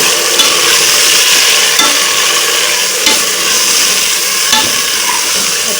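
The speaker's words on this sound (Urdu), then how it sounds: "چکن کو ہم فرائی کر رہے ہیں اس گھی میں۔" Chicken frying in ghee with golden brown onions gives off a loud, steady, hissing sizzle, close up and constant, with faint stirring clicks and no talk.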